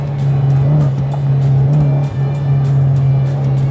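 A car drives past on the road, its engine drone and tire noise loud and close, rising and holding steady across the moment while a Mitsubishi Eclipse GS idles nearby.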